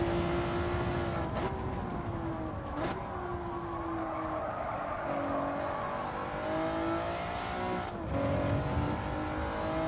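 A race car in a racing video game accelerates hard through its gears, a loud, steady engine whine rising in pitch and dropping back at each shift, with occasional tyre squeal under it.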